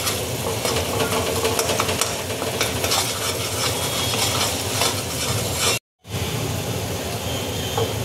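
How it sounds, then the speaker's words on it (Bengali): Spices with black salt sauté in a pan for chickpea ghugni, with a dense, loud, continuous sizzle and busy stirring that cuts out briefly before resuming. "আর দিচ্ছি বিট লবণ। ভালো করে কষিয়ে নিই।"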